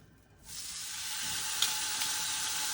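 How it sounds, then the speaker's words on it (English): Carne asada meat hits a preheated pan on medium-high, starting a bright sizzle after a brief silence that builds and holds steady up close, with a sharp crackle at the very end; no speech. "we're going to go ahead and sear the meat"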